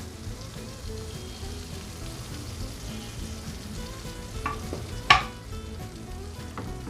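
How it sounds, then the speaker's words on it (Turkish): Soft, steady sizzling of bread frying in butter in a pan, with light stirring scrapes and a sharp clack near the end. "Şimdi bu tereyağında ekmeklerimi kızartacağım."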